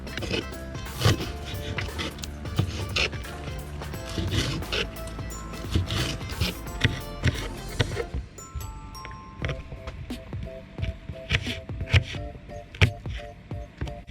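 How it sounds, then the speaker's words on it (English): A knife chops garlic into chunks on a cutting board in a home kitchen while shrimp and grits are being made, a rapid run of sharp, close taps and thwacks that keeps going throughout. "I just chopped up our garlic"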